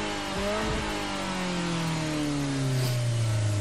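A car engine in Gran Turismo Sport on the loading screen: a sharp rev that climbs and then settles into a steady, slowly falling drone, loud and alone with no talk.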